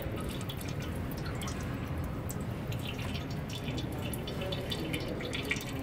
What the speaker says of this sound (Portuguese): Ó, o óleo escorrendo.